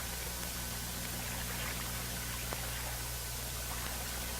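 Clear water poured over the barrel, chamber and receiver of an M16A1 rifle to wash out mud, a steady soft stream of pouring and trickling over a low background hum.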